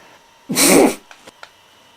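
A single loud, close sneeze bursts out, followed by a few faint sniffs or small breaths.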